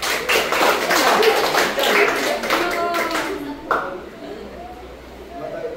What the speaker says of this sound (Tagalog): Bigyan natin siya ng palakpak.